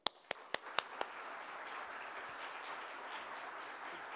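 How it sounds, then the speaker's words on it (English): Five sharp, separate hand claps in the first second at a diplomacy talk welcoming an ambassador, then only faint room hiss; quiet and sparse rather than full applause. "a big applause to receive Ambassador Casper Klynge"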